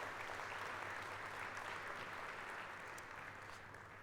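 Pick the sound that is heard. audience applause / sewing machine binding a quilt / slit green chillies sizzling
audience applause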